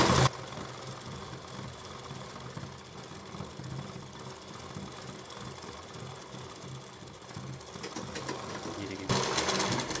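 Sewing machine stitching the sleeve of a kanchali blouse, with rapid, even mechanical chatter running steadily throughout at close range, a little louder at the start and end.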